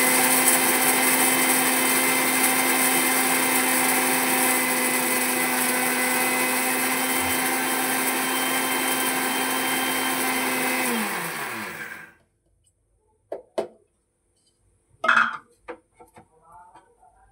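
A mixer grinder coarsely grinding chillies for pickle runs loud and steady with a whining motor hum, winds down and cuts off, followed by a few short clatters and taps of the jar.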